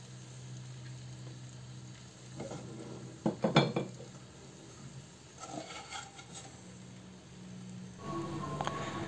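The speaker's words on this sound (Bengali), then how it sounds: "আমি এখন ভেজে রাখা চিকেনটা দিয়ে দেব।" Pre-fried chicken goes into a pan for Arabian chicken kabsa biryani, with a soft sizzle, clattering cookware and spoon scrapes in a cluster of knocks, then steady quiet frying under a faint hum.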